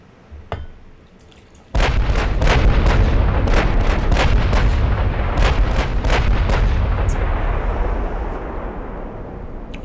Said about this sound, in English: Now fire those damn guns.